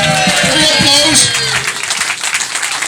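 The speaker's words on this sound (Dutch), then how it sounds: "Een applaus." Applause breaks out at a Dutch carnival flag-raising ceremony at a residence, a burst of crowd clapping mixed with overlapping voices and talk.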